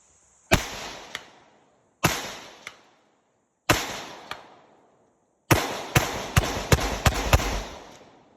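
Gunshots fired at a target outdoors: three loud, sharp single reports spaced apart, each with a trailing echo, then a rapid string of about seven shots in quick succession.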